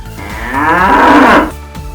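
A jallikattu bull lets out one long, loud, close moo that rises and then fades, with faint ambient noise around it and no talking.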